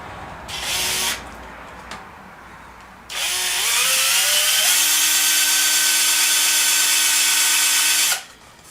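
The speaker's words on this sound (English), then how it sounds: "see if I can do this left-handed, we drill, in this instance," A power drill drilling a 1/4 inch hole whirs in two short bursts, then runs loud and steady for several seconds, its pitch climbing as it bites in before stopping.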